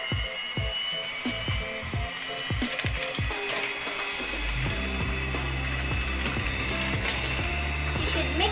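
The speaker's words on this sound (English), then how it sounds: "Now we have to mix all of these ingredients together with my mixer." Electric hand mixer beating baking ingredients in a bowl, a continuous whirring motor with rattling, clicking beaters that shifts to a steadier, fuller drone partway through.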